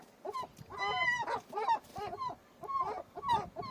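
Gulls calling by a nest they are building, a run of loud, harsh, honking cries in repeated bursts close by, with no talking.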